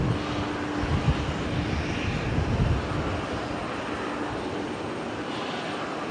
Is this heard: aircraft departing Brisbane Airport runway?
yes